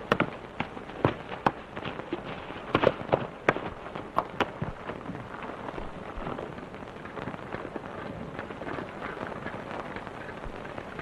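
Sharp gunshots crack out in a quick irregular burst early on in a 1931 Western film, several close together, then fade into a steady crackling, rain-like hiss.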